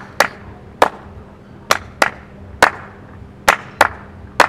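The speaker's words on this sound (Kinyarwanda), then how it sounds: "n'amashyi byose tubijyana" Sharp hand claps keep a steady beat through a dance lesson, eight crisp claps spaced fairly evenly, close and clear over a quiet room with no talking.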